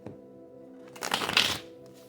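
Egyptian tarot cards shuffled by hand: one close, brisk riffling burst of about half a second over a quiet, steady background hum.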